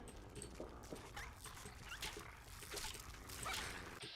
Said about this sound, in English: I hate the sound of dog meat getting hit.